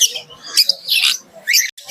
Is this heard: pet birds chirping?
yes